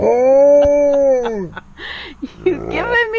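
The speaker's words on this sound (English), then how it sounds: "You just shake a little when you howl at your mom." A malamute lets out a long, wavering howl up close, which trails off into softer whines and yips.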